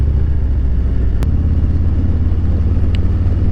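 A 2021 Harley-Davidson Road Glide Special with a Stage 2 114 engine rumbles steadily and close as it rides along twisty roads, its deep throb broken by one sharp click.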